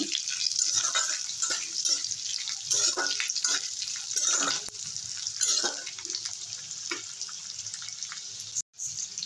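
A small onion sizzles in a pan for a fish curry with drumstick and pointed gourd. A steady, hissing crackle continues throughout at a moderate level, with no voices.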